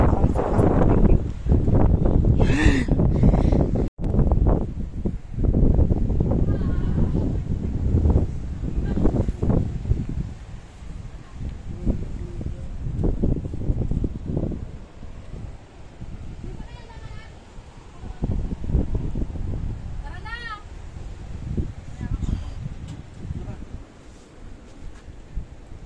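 Strong wind gusts roar across the microphone at Umbrella Rocks beach in Agno, Pangasinan, a constant heavy buffeting throughout while several people chat and call to each other nearby.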